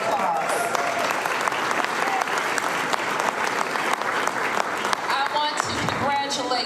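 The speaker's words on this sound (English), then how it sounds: "So let's give them a round of applause." An indoor audience bursts into sustained applause, dense and even clapping from many hands lasting several seconds, with a voice briefly heard as it tapers off.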